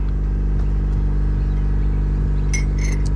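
A 2020 Toyota Hiace van idles with a steady, loud low-pitched engine hum and rumble, constant and close, with a couple of brief high chirps near the end.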